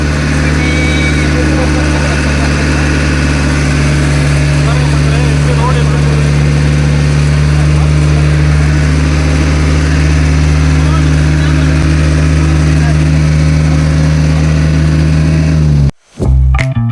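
A vehicle engine runs steadily with a deep, loud hum as it climbs uphill toward parking, then cuts out abruptly near the end.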